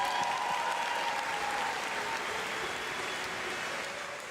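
Sustained applause from an arena crowd at a World Cup swimming final in Berlin as the top three swimmers are honoured, dense and steady before easing off slightly at the end.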